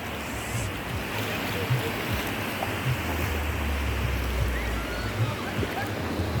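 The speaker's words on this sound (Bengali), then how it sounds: "এটা হচ্ছে নিউ দীঘা সমুদ্র সৈকত।" Sea waves at New Digha beach wash in as a constant broad roar with low rumbling surges and wind, steady and moderately loud, with faint voices in the background.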